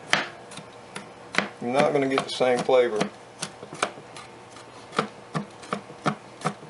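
Fresh garlic being chopped with a knife on a cutting board, a steady series of sharp, close knife taps, with a short stretch of talking in the middle.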